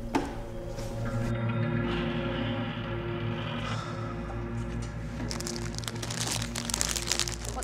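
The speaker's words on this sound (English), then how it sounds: "I'm just eating some Monster Munch." A crisp packet of Monster Munch rustles and crinkles while someone eats, a close, continuous crackle that grows sharper and more broken toward the end, over a low steady hum and with no talking.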